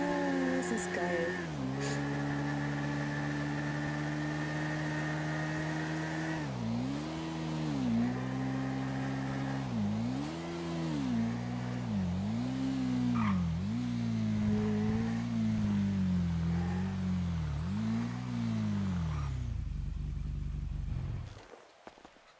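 A motorcycle engine in a GTA roleplay video game revs up and down again and again in a steady wavering rhythm, loud and close, before cutting off abruptly at the end.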